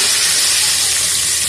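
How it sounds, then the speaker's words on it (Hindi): A desi-style tadka of tempering spices for mash masoor dal gives a loud, continuous sizzling hiss of hot oil, steady and close without pause. "तड़का लगा देंगे देसी स्टाइल में।"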